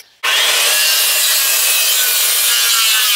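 Wood being cut for room addition joists, a loud, close, continuous rasping saw sound that starts abruptly and runs steadily without pause, with no voices.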